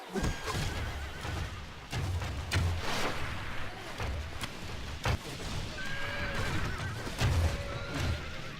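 Horses from horse archers neighing and whinnying during a Medieval II: Total War battle near city walls, several loud whinnies over a steady din of hooves and fighting with no talk.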